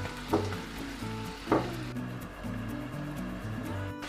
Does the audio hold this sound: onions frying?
yes